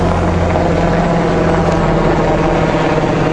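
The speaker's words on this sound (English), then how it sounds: "We got a big helicopter coming." A big military helicopter flies over with a loud, steady rotor and engine roar that fills the whole stretch without fading, and no voices are heard.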